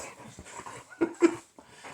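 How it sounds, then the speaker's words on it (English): A Labrador mix dog whimpers and gives a few short, sharp yips up close, the high whines rising and breaking off in quick bursts. "Oh yes, the lab mix"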